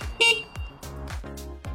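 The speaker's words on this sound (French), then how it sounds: "l'avertisseur sonore" The horn of a Yanmar Vio 50-6 mini excavator gives a few short, sharp toots in quick succession, loud and close, each blast separated by brief gaps.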